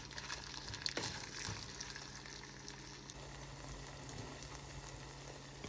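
Food sautés with salt in a pan, a faint, steady sizzle with a brief louder crackle near the start and no voices.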